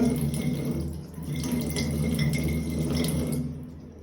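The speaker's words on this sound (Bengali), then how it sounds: "প্রথমে মুখটা একটু ধুয়ে নিব" A tap runs steadily while someone washes their face, a close, continuous splashing rush of water that dips briefly before flowing on.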